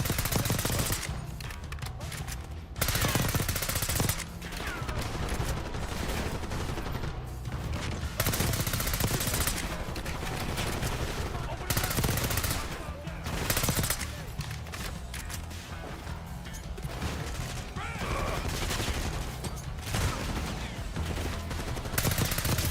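Machine gun fire in Call of Duty: Black Ops 6, loud near bursts of rapid automatic gunfire running almost nonstop, with short gaps between volleys and mixed battle noise.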